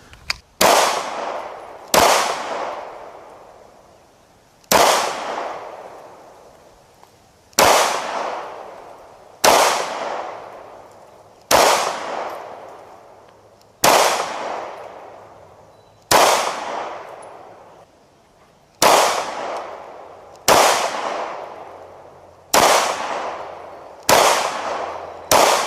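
A Derya DY9 shotgun fires eleven loud, sharp blasts spaced about two seconds apart, each with a long ringing decay into the open air, no voices between shots.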